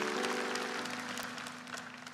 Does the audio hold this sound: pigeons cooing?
no